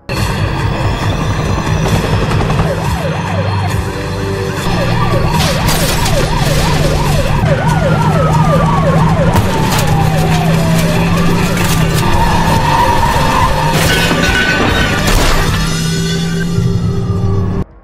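Police sirens wail continuously during a film car chase, their rising and falling tones layered over a loud, dense action soundtrack for the whole stretch.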